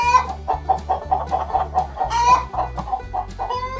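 Farm chickens cluck in a close, loud chorus of rapid, repeated clucks, with a rooster's crowing mixed in.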